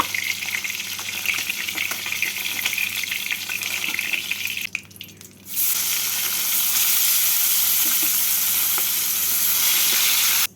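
Small fish frying in hot oil, a loud continuous sizzle that briefly drops away for a moment before returning, with no talk.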